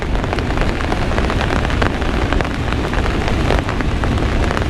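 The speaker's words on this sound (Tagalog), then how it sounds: "At tempo pa natin yung ulan." Steady heavy rain pours onto a surface outdoors during a fishing outing, a dense continuous patter of drops with no pauses, loud and close.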